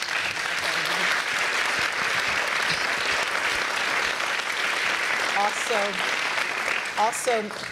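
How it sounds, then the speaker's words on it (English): An audience at a panel discussion on growth and poverty breaks into steady, full applause that fills the whole stretch, with a few voices heard faintly through it near the end. "let's give them a warm round of applause"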